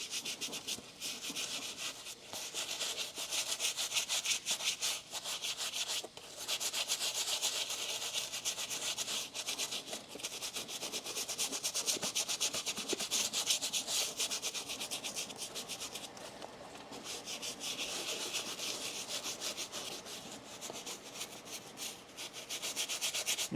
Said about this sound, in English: Then you're just going to work your way around the shoe by scrubbing like that